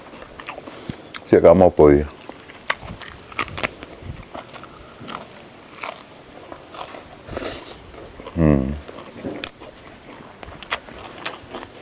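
Crunchy stir-fried roselle leaves with fresh shrimp are bitten and chewed close to the mic in loud crisp bursts, followed by softer chewing, with people talking in between.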